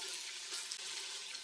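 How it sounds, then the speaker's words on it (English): Pork browning in hot oil in a pan makes a steady, close, crackling sizzle that fills the whole moment without any talk. "I'm going to add my pork. Just, you can hear it, just for browning."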